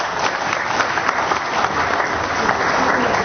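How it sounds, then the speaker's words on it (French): Dense, steady applause from a large audience at a film premiere held at a hotel, many hands clapping together in a continuous loud wash for a few seconds with no speech over it. "Je vous demande d'applaudir encore une fois très très très très fort."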